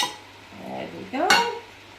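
Chicken with basil and tomato stirred in a pan: a brief scrape and clatter of utensil against the pan over a soft sizzle, close and short.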